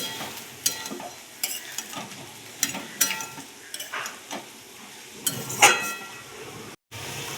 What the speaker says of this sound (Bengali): টমেটোটাকে দিয়েও একটু কষিয়ে নেবো মাংসের সাথে